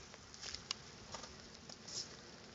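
Light rain patters outdoors on a cool, rainy day around a 1972 Chevy truck, a faint, steady sprinkle with a few slightly louder drips scattered through.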